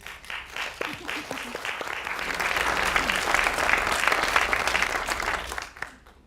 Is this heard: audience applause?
yes